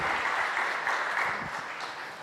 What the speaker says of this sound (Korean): 박수로 인사하도록 하겠습니다